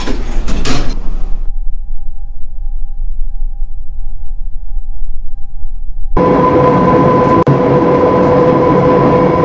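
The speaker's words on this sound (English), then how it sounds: "Doors closing." A 2016 Diamond Lifts elevator: a loud rushing burst, then a quiet steady hum, followed by a loud continuous mechanical whir with a sharp click as the car moves.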